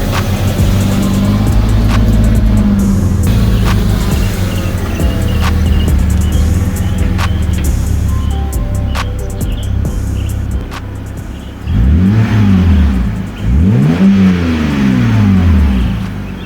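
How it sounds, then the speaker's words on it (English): BMW E90 328i with a modified dual exhaust, engine held at a loud steady drone before two sharp revs rise and fall in sweeping pitch near the end, close and clear with no talking. "the E90 does not sound nearly as good as it used to"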